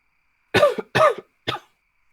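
Three sharp coughs in quick succession, close and fairly loud, with silence before and after.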